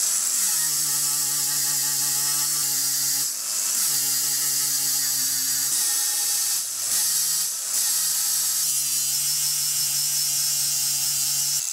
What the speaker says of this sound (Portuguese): vamos fazer um acabamento com a esmilhadeira